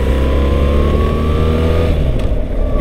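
A BMW R1300 GS motorcycle accelerating hard onto a motorway, loud engine note rising steadily in pitch with heavy wind rush, then shifting gear near the end.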